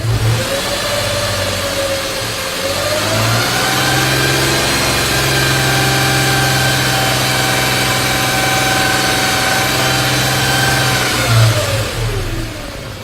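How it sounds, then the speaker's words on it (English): A car engine idles steadily with all electrical loads switched off, a constant low hum with a slow rise and fall in pitch, close and loud with no talking. "All loads are off, so we're not load testing the engine"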